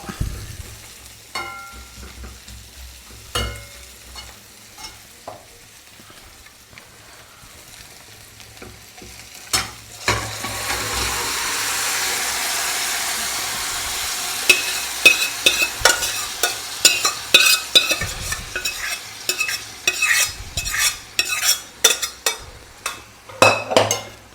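Curry leaves crackle in hot oil, then cooked mutton goes into the pan with a rush of frying sizzle, followed by repeated scraping, clinking stirs of a spoon against the pot.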